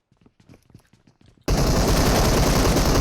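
Automatic gunfire in a mobile battle-royale shooter game opens abruptly at full loudness after a stretch of quiet clicks and shuffling, then keeps on as a dense, continuous burst that fills the rest of the clip.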